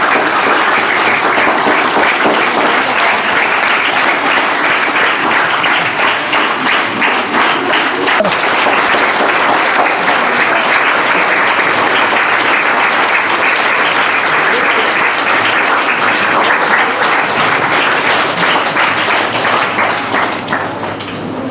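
An audience at a school result ceremony gives loud, sustained applause for students who all passed, a dense continuous roar of clapping that fades slightly toward the end.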